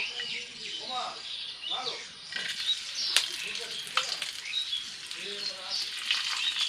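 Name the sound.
raisins frying in ghee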